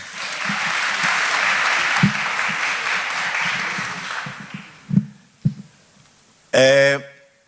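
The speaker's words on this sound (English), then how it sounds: "One more round of applause." An audience at a memorial lecture claps in dense applause for about four seconds, then thins to a few scattered claps, followed by a short burst of a voice.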